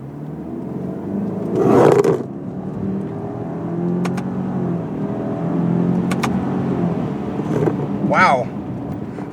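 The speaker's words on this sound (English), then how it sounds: "let's start here with a nice little pull from this stop sign" Turbocharged 2019 Subaru Ascent SUV pulling away from a stop sign, its engine note rising gradually inside the cabin at moderate volume, with small clicks and a short chirp over the steady road rumble.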